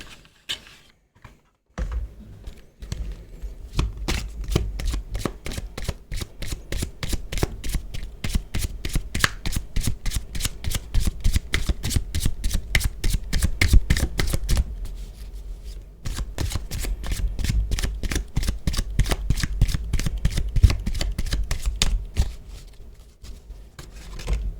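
Love Oracle tarot cards shuffled by hand, a long run of rapid, even riffling taps close up, pausing briefly about two-thirds through before the shuffle resumes and then tapers off.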